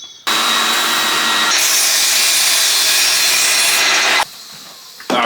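Timber is cut by hand for halving joints on a three-bay compost bin, with a close, loud continuous rasping saw stroke that shifts pitch midway and stops briefly near the end.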